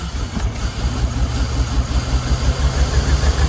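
A 1970 Impala with a swapped 6.0 LS V8 runs at a steady low idle, a constant throbbing rumble close by with no talking.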